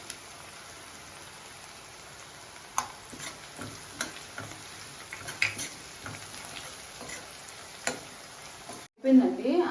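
Onions fry in a pan for an egg and garlic chilli dish, a low continuous sizzle with scattered stirring knocks, ending in a short loud clatter at the close.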